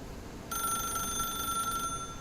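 A telephone in The Stanley Parable begins ringing abruptly after a moment of quiet room tone, a bright electronic trill that holds steady and moderately loud to the end.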